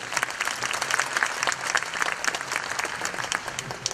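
Sustained applause from an audience at a press conference, dense steady clapping throughout with no pauses.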